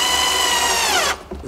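Power tool, likely a drill or driver, fastening a side-mounted drawer slide rail to wood, a steady close whine that stops abruptly near the end, followed by a brief faint rustle.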